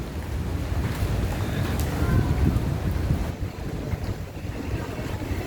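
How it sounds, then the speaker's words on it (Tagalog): Strong typhoon wind buffets the microphone, a loud continuous roaring rush with gusty swells and a low rumble beneath. "Ayan, humahangin na siya."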